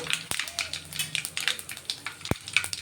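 Cumin seeds and two dried red chillies frying in hot oil for a stuffed brinjal masala curry, giving a light, crackly sizzle with small pops and a couple of sharp clicks, close by and fairly quiet.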